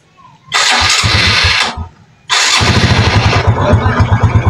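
A Honda XRM125 RS motorcycle with a misfiring engine and a suspected carburetor fault, revved hard in two loud bursts close up, dropping briefly between them, then settling into an uneven, pulsing idle.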